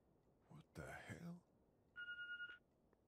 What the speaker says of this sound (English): I believe that would be the phone.